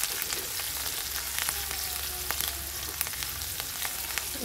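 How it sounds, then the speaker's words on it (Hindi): Green chillies and garlic fry in a pan for a besan lauki curry, giving a steady close sizzle with faint crackles and a low hum underneath, no talking. "कुछ हरी मिर्च, इसको हम पकाएंगे थोड़ा सा। लहसुन पकने के बाद"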